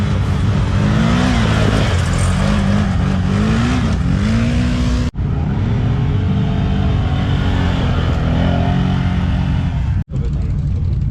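A Polaris 570 ATV engine revs hard and continuously at a racing event, pitch rising and falling as it accelerates, with two abrupt cuts where the sound briefly drops out.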